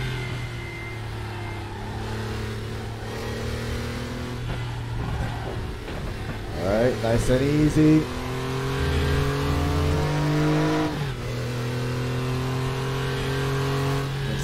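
A Porsche 911 (964) race car at Bilster Berg during an endurance race, its engine droning steadily from the cockpit, then revving hard through several quick gear changes before settling back to a steady drone; a driver speaks briefly.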